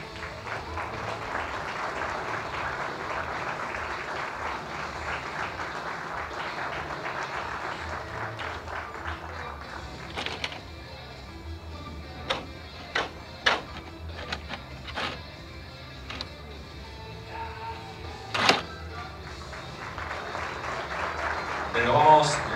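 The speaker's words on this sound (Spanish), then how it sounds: "Renovamos los aplausos para los concejales titulares" Audience applause at a municipal council ceremony proclaiming new authorities, a broad steady patter for about ten seconds that thins into scattered claps and a few sharp knocks, then swells again at the end.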